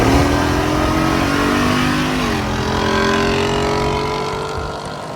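Jeep engine revving hard and accelerating on the road, a loud, close, sustained roar whose pitch climbs, dips at a gear change, then climbs again before easing off.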